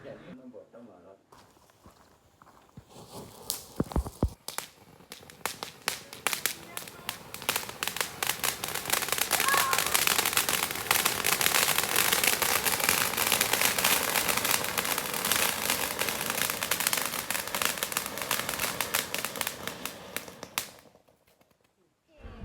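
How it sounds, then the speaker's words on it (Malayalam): A peacock firecracker bursts at a Vishu celebration. After a few scattered pops, it builds into a long, dense, loud crackling spray lasting around fifteen seconds, then cuts off abruptly. "ആദ്യം തന്നെ നമുക്കിതാ ഈ പീക്കോക്ക് പൊട്ടിക്കാം."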